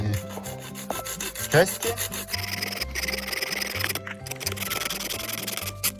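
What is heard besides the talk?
hand saw cutting bone into rough hook shape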